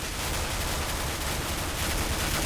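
Continuous, dense gunfire from the Counter-Strike: Global Offensive video game, loud and sustained with no let-up across the whole stretch and no voices.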